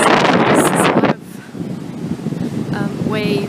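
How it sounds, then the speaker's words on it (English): Strong wind gusts across the microphone on a beach in Uruguay, loud at first then easing into a steadier rush with rough surf beneath. "we are getting close to the water right now. As you can see, it's pretty actually angry. It's very windy"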